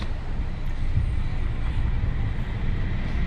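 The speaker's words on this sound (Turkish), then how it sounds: "Tramvay geldi." Low continuous rumble of a tram rolling in, a steady heavy drone with faint rail noise, no clear voices.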